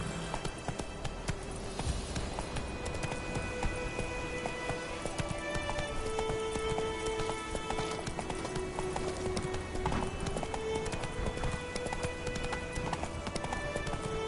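A horse gallops in The Witcher 3 video game, a steady rapid clip-clop of hooves running continuously under game music and ambience.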